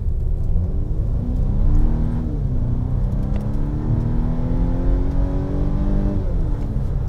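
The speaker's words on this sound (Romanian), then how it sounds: "Și într-adevăr, motorul devine zgomotos" A Volvo S60 engine accelerates hard from a standstill, its loud, throaty drone climbing steadily in pitch through the gears, with no talking.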